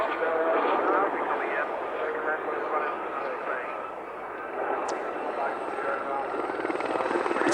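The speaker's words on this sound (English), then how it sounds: "It's a five-seater helicopter." An Aerospatiale Gazelle helicopter drones steadily at an airshow with a broad, rumbling engine and rotor noise, with a voice speaking over it throughout.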